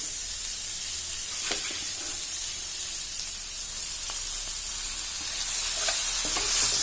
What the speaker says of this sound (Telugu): తోటకూర వేసుకొని కొంచెం ఫ్రై చేయాలి